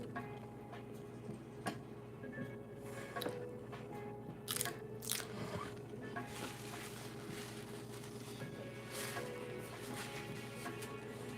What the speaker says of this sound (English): And then you get that crunch from the tortilla.